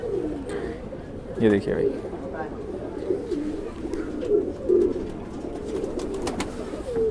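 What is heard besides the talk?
Kalpari Madrasi pigeons cooing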